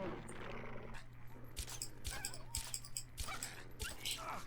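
A dog in Fallout 3 whimpers and yips in short, repeated bursts over a busy background of game noise and faint thuds, fairly quiet overall.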